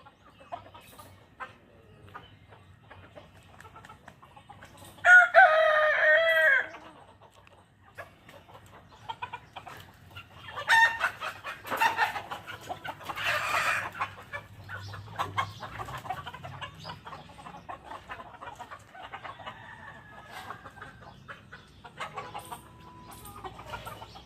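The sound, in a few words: desi roosters crowing and clucking on a farm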